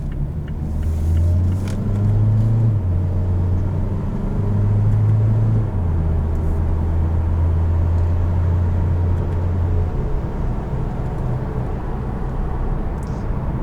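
A 2018 Mazda CX-3 accelerating under power, heard from inside the cabin as a loud, steady engine drone that rises in steps through the gears before leveling off, with no talking.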